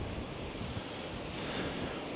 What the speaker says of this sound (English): It's absolutely lovely here, just watching the waves.